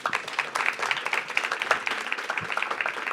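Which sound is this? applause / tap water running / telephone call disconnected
applause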